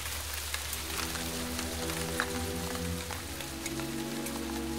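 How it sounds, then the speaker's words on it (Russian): Rain falls as a soft, steady patter with scattered drops, faint and continuous beneath a low musical drone. "потом увидел, что начинается дождь"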